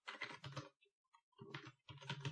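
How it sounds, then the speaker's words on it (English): Keys clatter on a computer keyboard while a formula is entered in an Excel spreadsheet, two quick bursts of close, quiet keystrokes separated by a short pause. "So to set this up, we're just going to type in the formula"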